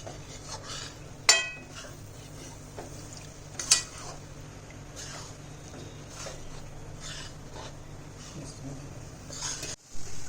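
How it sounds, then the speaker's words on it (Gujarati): A utensil scrapes and stirs in a pan as ghee is worked into flour for mohanthal, a Gujarati sweet, with soft rubbing strokes and a couple of sharp clinks against the metal. "હવે અત્યારે આપણે જોશે એમ થોડું થોડું ઘી એડ કરતા જશું અને હલાવતા જશું."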